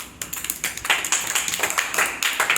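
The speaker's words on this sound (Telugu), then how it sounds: "Very good, claps." A classroom of children claps in quick, ragged rhythm, many hands striking close by in a lively burst of praise that carries on for a couple of seconds.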